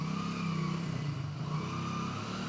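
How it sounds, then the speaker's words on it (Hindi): A motorbike engine runs steadily and close, with a continuous humming drone and slight throttle variation as it is ridden, with no talking. "देखिए हमारे पास तक वो आ रहे हैं बहुत आसानी के साथ बाइक चलाते हुए"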